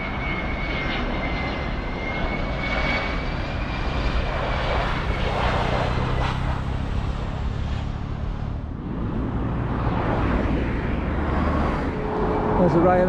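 Jet2 passenger airliner flying overhead outdoors, a broad steady engine roar holding for the whole stretch, swelling slightly near the end, with people talking nearby underneath.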